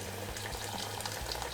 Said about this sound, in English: Throw in some water.